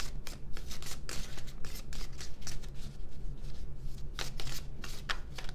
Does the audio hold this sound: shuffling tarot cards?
yes